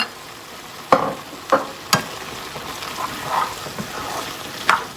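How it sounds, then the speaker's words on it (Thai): Pumpkin and green onions stirred in a frying pan, with a few sharp utensil scrapes and clacks over a low continuous sizzle, spaced irregularly, close and fairly clear. "เราต้องคนให้มันสุกมากค่ะ"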